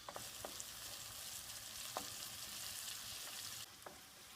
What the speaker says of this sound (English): we're going to let that cook for maybe about a minute or so, just till the peppers are slightly tender